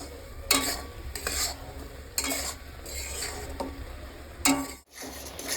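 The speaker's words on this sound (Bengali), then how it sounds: "নারকেল আর গুড়টা ভালো করে পাকিয়ে নেবো একবারে শুকনো শুকনো করে" Grated coconut and jaggery being stirred in a pan, the spoon scraping and knocking against the metal in repeated close strokes over a low sizzle.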